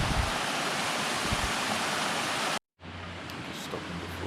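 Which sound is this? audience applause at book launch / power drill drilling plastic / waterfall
waterfall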